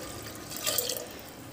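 Water is poured into a cooking pot already holding mustard oil, giving a brief, soft splash and trickle that swells for a moment and then settles.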